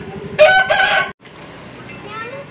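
A game rooster kept for festival cockfights crows once, a loud, close call, followed by softer clucking and farmyard noise.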